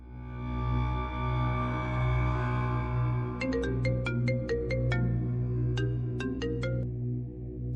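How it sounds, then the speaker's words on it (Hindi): A phone ringtone plays a repeating electronic melody of short bright tones over a steady low hum, ringing in bursts. "अरे सोना, उठा लो फोन, वरना बार बार फोन करता रहेगा तुम्हारा शोहर"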